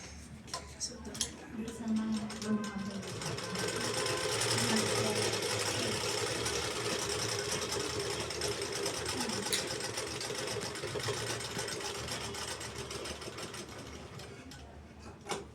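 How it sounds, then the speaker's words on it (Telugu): Sewing machine stitching along a folded fabric edge, a steady continuous mechanical whir with light ticking that runs the whole time under a voice talking. "తర్వాత ఇటువైపు కూడా మడిచి కుట్టుకోవాలి."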